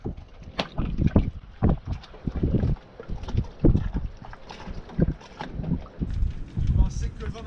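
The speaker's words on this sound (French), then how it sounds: "Je pensais que le vent n'allait pas se calmer" Gusty wind blows over a sailboat at sea off Cap Corse, buffeting the microphone in uneven bursts, with voices talking intermittently through the rushing noise.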